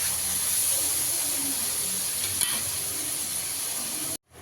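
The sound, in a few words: stir-frying turmeric and Kashmiri chilli masala in a pan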